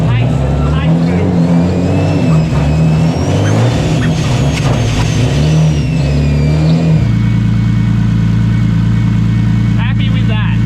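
A freshly rebuilt turbocharged car engine with a new bottom end fires up for its first start, revving loudly and steadily with strong low rumble, then settling into a constant drone; voices talk over it.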